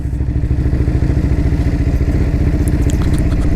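A Ducati Hyperstrada 939 motorcycle rolls in at low revs, its engine giving a loud, close, rhythmic thumping idle-like pulse with clattering mechanical texture, steady throughout.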